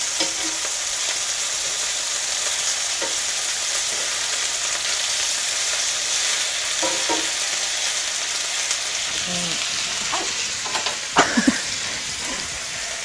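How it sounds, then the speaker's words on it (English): Meat browning in a tablespoon of oil in a frying pan, a steady close sizzle and crackle running throughout, with a few soft scrapes of stirring near the end. "I'll put the onions in on the side here to start browning while the meat's finishing being browned"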